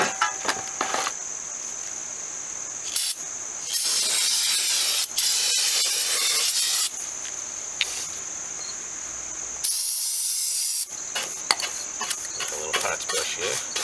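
Brake cleaner sprayed from an aerosol can onto a part during a transmission service on a 2009 Toyota Corolla, several loud close hissing bursts of varying length separated by short pauses.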